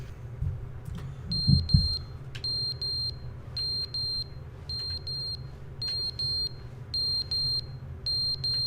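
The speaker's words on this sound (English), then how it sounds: "Is that a fire alarm?" Fire alarm in the video game The Stanley Parable beeps in a steady repeating pattern of paired high tones over a low rumble, with a few thumps near the start.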